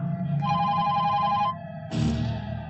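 A telephone rings loudly in two electronic trills separated by a short pause, close up and with no one speaking.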